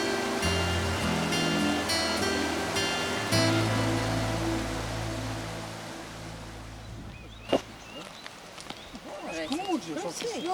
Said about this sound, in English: The river spectacularly cascades over a rocky outcrop